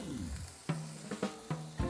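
Garlic sautéing in a very hot wok, a steady close sizzle with a few sharp clacks of a utensil against the pan.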